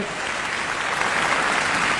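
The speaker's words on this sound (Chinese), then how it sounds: "掌声有请" A large audience at a Suzhou pingtan awards gala applauds to welcome performers onto the stage, a loud, sustained wash of clapping from many hands with no pauses.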